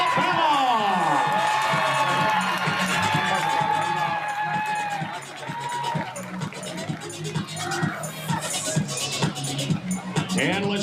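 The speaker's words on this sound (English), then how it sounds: "Keep the applause going." A crowd at a Babe Ruth baseball all-stars opening ceremony cheers, whoops and shouts, with children's voices in the mix, under loud amplified announcer speech, the noise swelling and continuing throughout.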